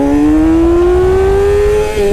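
A Yamaha R6 sport motorcycle engine revs hard in first gear, a loud, steady rising whine that climbs continuously in pitch with strong harmonics over rumbling wind noise, briefly dipping near the end.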